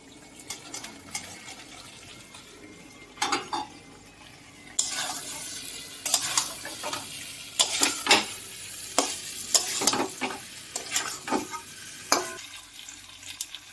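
Fried cauliflower pieces being stirred into sizzling spiced oil in a pan for a Bengali cauliflower roast, with a steady frying hiss broken by repeated scraping, clattering stirs that grow busier partway through.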